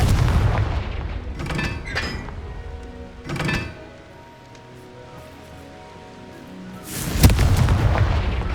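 Confringo explosive spell blasts in Hogwarts Legacy, heavy booming bursts: two close together early, then a loud one near the end, with a low rumbling tail between them.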